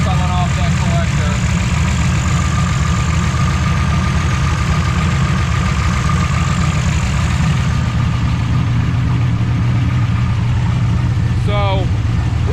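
A 1988 IROC-Z Camaro with a big oil leak idles close by, a loud, steady low rumble throughout with a few faint squeaks near the end, no talk over it.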